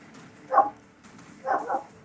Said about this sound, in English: No, no barking.